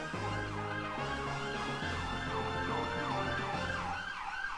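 A wailing emergency siren rises and falls in steady sweeps, loud and continuous over a low droning background of game music tones.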